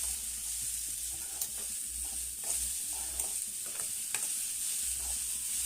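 Beetroot poriyal being stirred in a pan with salt, a soft steady sizzle underneath and a few light scraping knocks of the spoon against the metal, fairly quiet and with no voices.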